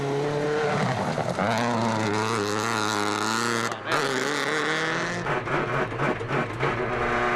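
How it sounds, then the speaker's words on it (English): A Suzuki WRC rally car on a high-altitude stage at Rally México 2008, suffering a throttle problem, drones and revs steadily nearby, with a brief dip and then uneven engine surges. "Tony Gardemeister in the Suzuki, though, is hemorrhaging time with a throttle problem"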